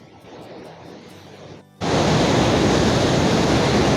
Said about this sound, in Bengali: দেখো জলের স্পিড কেমন আর আওয়াজটা কিরকম